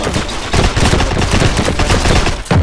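Rapid bursts of close, loud gunfire from friendly soldiers in the World War II shooter Heroes and Generals, overlapping automatic fire with sharp cracks throughout.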